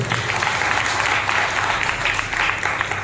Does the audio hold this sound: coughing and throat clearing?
no